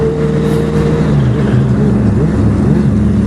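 A Kawasaki Z1000 motorcycle engine runs in sixth gear around 75 km/h, a loud steady drone with tonal engine harmonics that shift slightly as the rider eases off, heard up close from the bike with wind noise and no talking.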